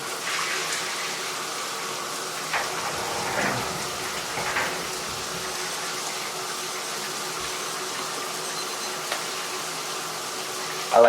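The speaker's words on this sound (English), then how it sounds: "taking a freezing cold shower" A freezing cold shower runs at full cold, with a steady broadband hiss of falling water and a few brief splashes and knocks as someone moves beneath it, constant and fairly close throughout.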